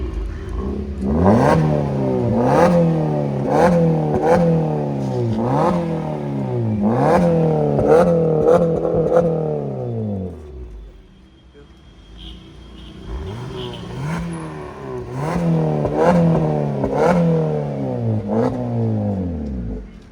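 A 2023 Suzuki Swift fitted with a loud valvetronic exhaust revs repeatedly in close, loud bursts with rising and falling pitch, a brief quieter idle pause mid-way, then another series of blips.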